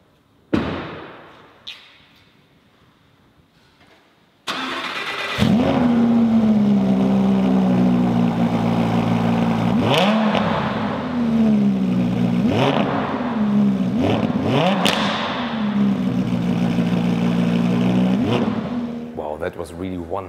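A Lamborghini Huracán Spyder LP 610-4 with a 5.2-litre naturally aspirated 610 hp V10 fires up after a quiet opening, then settles into a loud idle punctuated by several sharp rev blips close by.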